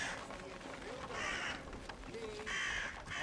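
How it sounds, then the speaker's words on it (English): Crows in the video game Atomfall caw as an alarm, several harsh repeated calls over a steady game ambience. "Oh, the birds function as an alarm."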